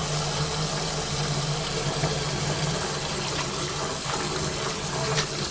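Leafy greens being washed repeatedly in water to rinse out sand, a steady continuous gush and slosh of water with a low motor-like hum underneath, close and unbroken throughout.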